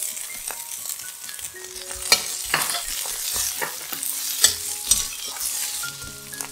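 Bamboo shoots stir-fry in a hot pan for a vegetarian noodle dish, with a soft, steady sizzle broken by irregular scrapes and clacks of the spatula against the pan, close up and with no talking.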